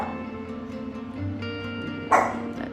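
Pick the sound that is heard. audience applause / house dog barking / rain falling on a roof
house dog barking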